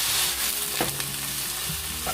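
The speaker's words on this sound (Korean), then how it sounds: "이렇게 다닥다닥다닥 소리 날 정도 됐을 때" Julienned potatoes stir-frying in a pan for a Korean potato side dish, a steady close sizzle with scraping and tossing sounds running throughout, no voices.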